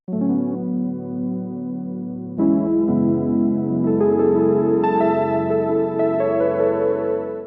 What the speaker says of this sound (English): So it's called Keys Lo-Fi and it sounds like this.